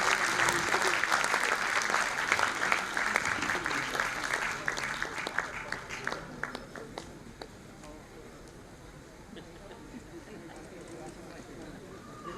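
A crowd at an award ceremony and board installation applauds the awardees: dense, loud clapping for about six seconds that thins into scattered claps and fades out.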